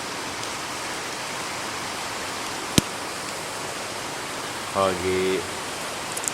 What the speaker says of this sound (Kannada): ಜೋರು ಗಾಳಿ ಮಳೆ